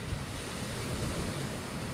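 Sea waves wash onto a sandy, partly rocky shore beneath mountains, a steady close hiss of surf with wind buffeting the microphone.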